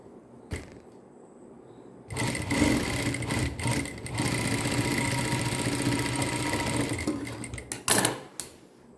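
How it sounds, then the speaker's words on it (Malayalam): A sewing machine stitches cross pieces of a draped skirt, running in a steady fast whirring rattle for several seconds after a brief click, then slowing and stopping with a few clunks. "അപ്പം നമുക്ക് ഈ ക്രോസ് പീസ് രണ്ടും പിടിച്ച് തയ്ക്കാം"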